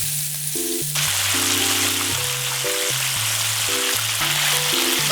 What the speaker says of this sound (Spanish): Y ahora vamos a freír las piernas del pollo.